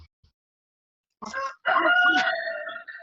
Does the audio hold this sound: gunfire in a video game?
no